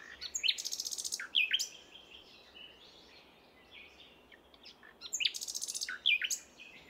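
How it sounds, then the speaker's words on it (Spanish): A common nightingale sings two bursts of rapid, repeated high notes with sharp whistled slides, separated by a quiet pause, heard clearly against a soft, still background. "el famoso ruiseñor común"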